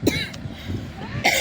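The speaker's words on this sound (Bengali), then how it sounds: "কাশি লাগছে, কষ্ট অল্প কাশি লাগছে।" A person coughs at close range, a quick burst at the start and another at the end, with a steady outdoor murmur in between.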